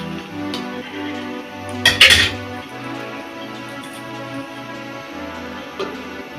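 A metal lid lands on a cooking pot with a sharp clatter and rattle near the middle, close and distinct over a quiet kitchen background with faint tones.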